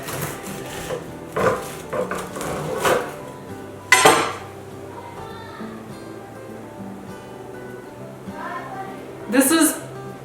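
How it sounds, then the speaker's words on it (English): Loaf of gluten-free sourdough bread sliced with a knife on a board, a few rough sawing strokes and knocks amid a person talking. "I'm gonna slice a little piece"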